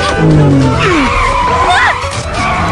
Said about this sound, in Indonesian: hampir saja ia akan tertabrak oleh mobil